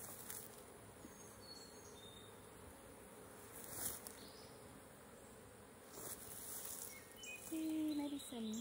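Bees buzzing during a beehive inspection: a steady, faint, high insect hum that runs continuously with small swells, plus a few brief tonal chirps near the end.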